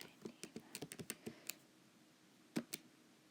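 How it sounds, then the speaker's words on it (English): Numbers typed on a computer keyboard while working a law of cosines problem, a quick run of about a dozen soft key clicks, a pause, then two final sharper taps, close and quiet. "I don't know why I'm typing it in."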